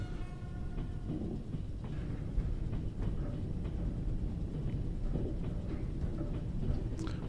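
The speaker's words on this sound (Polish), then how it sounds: "Mijamy jakiś inny pociąg." Another train passing in Trans-Siberian Railway Simulator, a steady low rumble and rolling clatter that holds throughout, with no talk over it.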